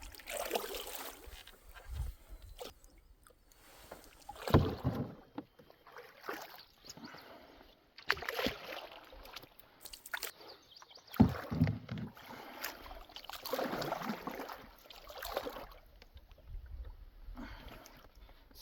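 Solo canoe paddled through extremely shallow, muddy water on a backcountry trip in Algonquin; repeated paddle strokes splash and drip in uneven bursts, close by, with occasional faint talk between strokes.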